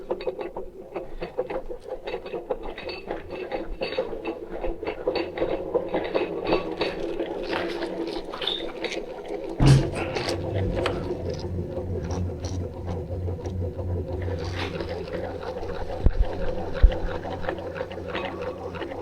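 A Razor scooter's electric motor spins the raised rear wheel with no load, giving a steady mechanical whir with gear and ratchet-like clicking, plus occasional handling knocks and one sharp thump midway.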